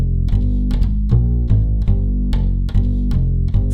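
Plucked upright bass from the Trillion Acoustic Upright VST plays a steady walking line of evenly spaced notes, loud and close, with no voices.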